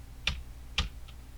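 Two distinct, close clicks from keys pressed on a computer keyboard, about half a second apart, followed by a fainter third tap in a quiet room.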